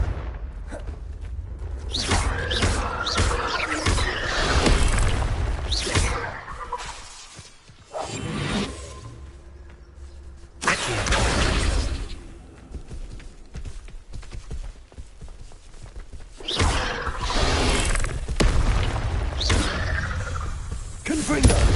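Confringo fire spells in Hogwarts Legacy burst out as several loud blasts with shattering crashes and whooshes, coming in clusters separated by quieter gaps, with a voice speaking over them.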